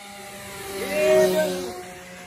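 Homemade scratch-built RC plane making a low pass at full throttle, its propeller whine steady and then rising and falling as it sweeps by at close range, loud and alone.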